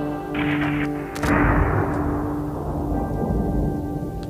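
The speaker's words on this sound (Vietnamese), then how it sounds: "Trời sắp mưa to rồi đó" Thunder cracks and then rumbles away over steady heavy rain, loud at first and fading into a long, low roll under the downpour, with no talk.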